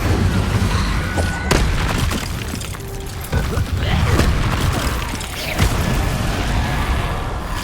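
The Incendio fire spell being cast in Hogwarts Legacy, loud whooshing bursts and booming impacts layered over busy mechanical combat noise, with no talking.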